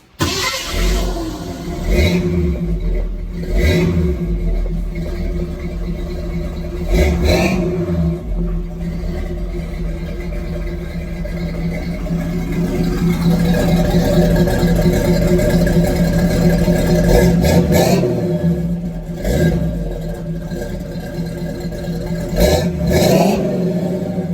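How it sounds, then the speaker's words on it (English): A Ford Mustang engine starts and runs, giving a loud, close, steady rumbling idle. Several revs rise and fall over it. "figured I'd fire it up and get it running"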